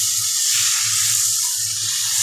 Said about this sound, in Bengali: এই সবজির মশলাটা একটু ভালো করে ভাজতে হবে